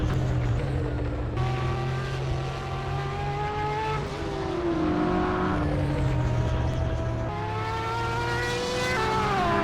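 A Porsche race car engine in a sim racing video game, close and steady, climbing through the revs and dropping sharply at each gear change, with several clear upshifts.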